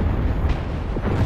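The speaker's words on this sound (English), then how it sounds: "I can fire my rocket" A rocket fires from a ship in the video game Fractured Space, heard as a short rumbling burst with a muffled boom near the end.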